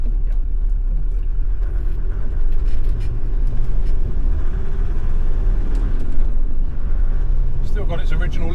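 A 2002 Land Rover Defender 90 TD5 diesel drives along a road, a steady low engine rumble heard from inside the cabin, continuous throughout with someone talking over it.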